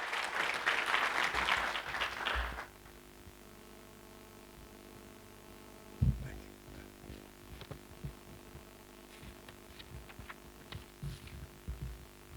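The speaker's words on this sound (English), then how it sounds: "A round of applause for him as he comes." A brief burst of audience applause at an international pharmacy research conference as the Deputy Vice-Chancellor comes forward, loud for about two seconds and then dying away into a quiet room hum with faint knocks and movement.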